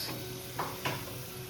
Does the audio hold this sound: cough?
no